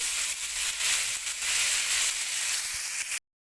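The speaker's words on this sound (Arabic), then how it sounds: "لازم تستنوا على الزبده شويه عشان تاخدوا بقى اللون الحلو ده واللحمه تتكرمل معاكم بسرعه" Beef kebab pieces browning in butter give a steady, dense sizzle and hiss up close, lasting about three seconds before cutting off abruptly.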